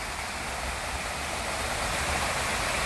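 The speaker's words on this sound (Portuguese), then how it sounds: "Essa cascata vai até lá embaixo." A waterfall in a botanical garden cascades steadily, a dense, loud, unbroken rush of falling water with no voices over it.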